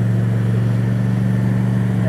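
A 2023 John Deere S130 riding mower pulls forward, its engine holding a steady, close, moderately loud drone with a low throbbing hum throughout.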